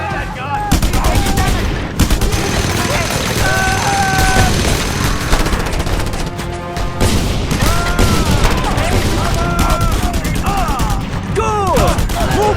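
Mounted gun firing in the video game Just Cause 2, loud sustained bursts of rapid automatic fire with booming impacts, dense and close, with a voice shouting briefly over the din.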